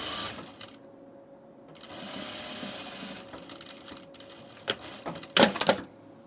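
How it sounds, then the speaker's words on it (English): Sewing machine stitching the seam of a dress with right sides together, a close steady mechanical hum and needle chatter in short runs, ending in a louder clattering burst, with almost no talking. "I'm just sewing it right sides together"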